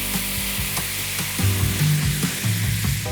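Wine poured into a hot pan of caramelizing shallots sizzles loudly and steadily, with brief bursts of crackle and bubbling over a continuous frying hiss; no voices.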